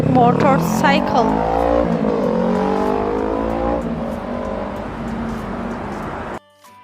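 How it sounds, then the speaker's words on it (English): A motorcycle engine revs hard and close, its pitch sweeping up and then settling into a loud, sustained drone that cuts off abruptly near the end. "Motorcycle, motorcycle."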